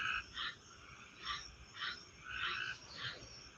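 Tree frogs croak at night outdoors, a faint repeated chorus of short raspy calls pulsing about twice a second, distant and steady with no voices.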